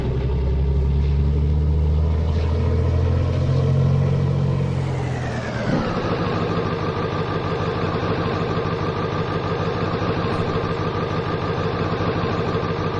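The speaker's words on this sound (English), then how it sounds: "Let's get the noisy truck up here and get it shut off." A noisy farm truck's engine idles steadily close by, a continuous low rumble with a slight shift in pitch partway through, running alone with no talk.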